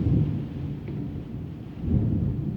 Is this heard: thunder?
yes